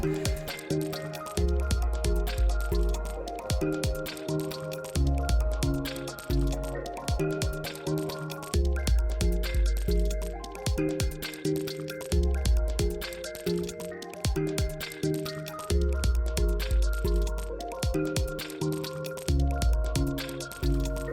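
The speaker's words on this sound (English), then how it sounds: "Lucy's pumping up a paddleboard, ready for some fun adventures later on" A hand pump inflating a paddleboard by the sea gives steady repeated rhythmic strokes of pumping and hissing air, close and fairly loud, with no talk.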